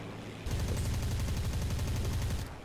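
Sustained rapid automatic gunfire in War Thunder, a dense loud burst of fire lasting about two seconds after a brief lower rumble, with no talk over it.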